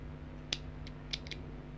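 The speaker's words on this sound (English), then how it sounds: "then you can cut this part out now" Scissors snip through crochet yarn: a few sharp, close clicks, one alone and then a quick pair a little later, over quiet background hum.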